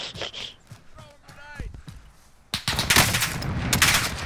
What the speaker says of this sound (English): How's he shooting at me, dude?